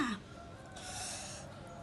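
A single brief chicken call from outside an open window, faint and distant, at the very start, followed by quiet room hiss.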